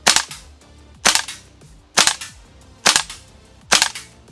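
A WE AK74 gas blowback airsoft rifle fires on semi-automatic: five sharp, loud cracks spaced roughly a second apart, each with a short mechanical clack of the bolt cycling, close up with no talk.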